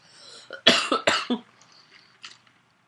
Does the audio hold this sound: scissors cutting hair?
no